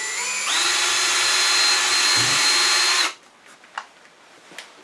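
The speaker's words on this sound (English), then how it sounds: "then I'm going to drill with a 5/64 drill bit" A power drill fitted with a 5/64 inch bit bores into a small wooden sea urchin ornament, whining loud and steady for about three seconds before it stops, followed by faint clicks and handling noises.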